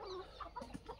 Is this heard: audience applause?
no